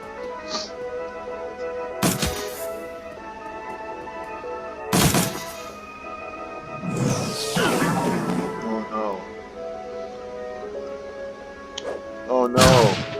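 Combat gunfire in the Shadowrun Dragonfall video game, a handful of sharp separate blasts and crashes spaced several seconds apart over a droning musical background, with a voice speaking briefly.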